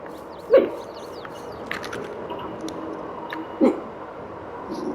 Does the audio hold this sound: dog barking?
yes